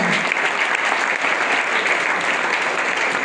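A church congregation applauds during a French-language service, a dense, even wall of clapping hands that carries on steadily throughout.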